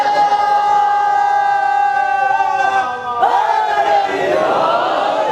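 A crowd at a religious gathering (majlis) chanting slogans in unison: loud, sustained massed voices with rising and falling tones, filling the space continuously.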